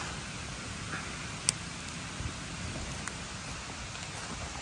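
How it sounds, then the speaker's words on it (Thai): Steady rain falls in a forest in the United States, a soft continuous hiss of drops on leaves with a few faint taps, no voices. "ฝนตกสุดยอดเลย"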